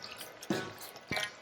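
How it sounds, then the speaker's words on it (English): Water poured in small additions onto whole wheat flour for roti dough, giving two brief wet splashes about half a second apart over a quiet room background. "So what we will do is gradually add the water."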